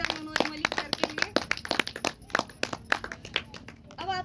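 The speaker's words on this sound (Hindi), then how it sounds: "तो एक बार जोरदार तालियां हमारे गुरु के लिए" A meeting audience claps loudly for their guru, a dense burst of sharp, close handclaps that rises and falls, with a voice speaking briefly over the clapping.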